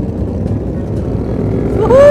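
An MV motorcycle on a Sunday morning group ride drones with steady, loud engine noise that climbs into a sharp rising rev near the end, while riders' voices chatter over it.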